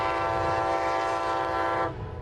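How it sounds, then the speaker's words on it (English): A train horn blares loud and steady, sustaining a layered chord over rumbling rail noise as the train passes through downtown Carbondale, then cuts off abruptly near the end. "Every week, thousands of folks pass through the city of Carbondale by train."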